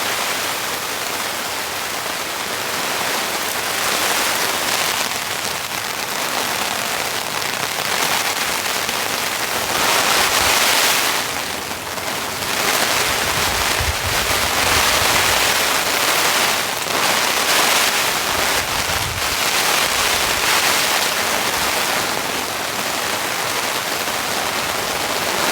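Heavy torrential rain pounding down on a solo campsite, a dense, unbroken roar of drops drumming on surfaces close by, with no talking, steady for the whole stretch.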